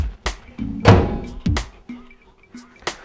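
A solid thunk of a microwave door shutting in a kitchen, followed by a few lighter clicks and knocks nearby.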